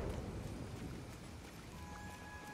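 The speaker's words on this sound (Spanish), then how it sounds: "¿Te parece que llueve poco? Hay ya rayos y todo." Steady, quiet rainfall in Disney Dreamlight Valley, a soft continuous hiss of drops with no distinct thunderclap standing out.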